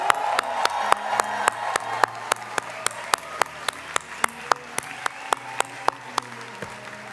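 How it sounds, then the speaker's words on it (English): Audience at a university commencement ceremony applauds for the staff team, a sparse, steady round of clapping with distinct individual hand claps ringing out in a hall over a faint murmur. "if we could give this Hult staff team an loudest round of applause"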